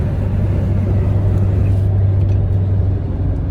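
An Acura car drives along a city road, its steady low engine hum and road rumble filling the cabin at a constant, close level with no voices.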